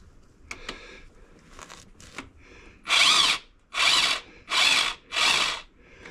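A power tool spins a bolt off a Land Rover Discovery 3 TDV6 engine during oil pump and timing belt work: a few faint clicks, then four loud, close, evenly spaced bursts of whirring, with no talking.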